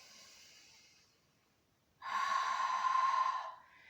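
Breath drawn in through a closed mouth, a soft airy hiss that fades, then after a pause a louder, steady rushing breath lasting about a second and a half, with no speech.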